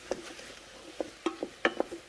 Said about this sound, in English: I'm going to let this saute for a minute or two here